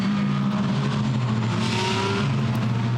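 GT race cars pulling away from the grid at Monza during a Blancpain GT Series Endurance Cup race, steady engine drone with a rising tone partway through, no voices.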